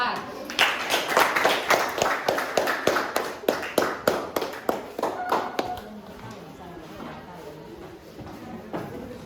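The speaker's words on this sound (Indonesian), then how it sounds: "tepuk tangan untuk kelompok 4." Students in a classroom applaud presentation group 4, a sparse, rhythmic run of individual claps for about five seconds that then fades into quiet room noise with faint voices.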